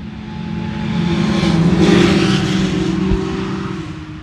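A loud car engine roars and revs steadily, swelling in the middle with broadband rushing noise, like a racing vehicle in a game.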